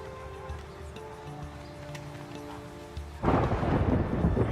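A thunderstorm in the Farthest Frontier town-building game brings steady rain hiss, then a loud rolling crack of thunder breaks in near the end and swells to fill the sound.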